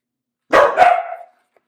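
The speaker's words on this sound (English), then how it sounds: "Apologies for the dog barks." A dog gives two quick barks in close succession, fairly loud and near, with a short tail of sound after them in an otherwise quiet indoor room.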